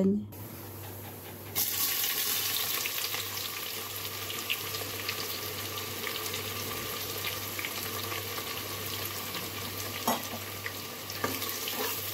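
Spices sizzle and crackle steadily in hot oil, a continuous close frying hiss with occasional pops and stirring clinks.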